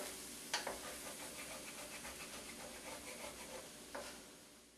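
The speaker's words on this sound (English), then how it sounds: "Half a cup of red wine, and use that to deglaze your pan. Scrape the bottom" A utensil scrapes across the bottom of a pan deglazed with red wine for a pie filling, a soft repeated rubbing over a quiet simmering hiss, punctuated by a couple of sharp clicks.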